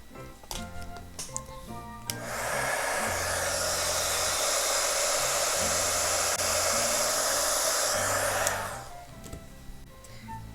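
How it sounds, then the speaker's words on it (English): Heat tool warming clear embossing powder on a stamped Christmas card, a loud, steady blowing roar lasting about six seconds, close to the mic, with faint handling noises before and after. "cover that with some clear embossing powder, and then I can just heat that up"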